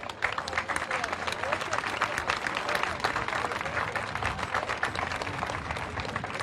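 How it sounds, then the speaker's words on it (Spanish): A church congregation applauding during Mass for the Immaculate Conception in Güer Aike, dense continuous clapping from a crowd filling the space, steady and fairly loud throughout. "Le damos un aplauso a Dios"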